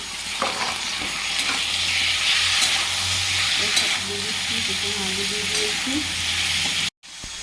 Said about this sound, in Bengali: এবারে একটু আলুটা একটু নেড়ে নিচ্ছি